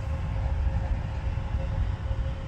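A train rolls slowly into a rail yard at Durand, producing a steady, heavy low rumble with faint metallic tones, continuous and fairly close, with no voices.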